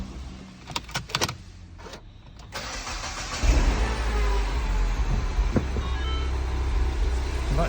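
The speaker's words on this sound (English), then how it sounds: "I'm going to start the car and see what we find" A Mini car engine cranks and fires at about 3.4 seconds after some earlier clunks and clicks, then settles into a steady, close, loud idle that runs to the end.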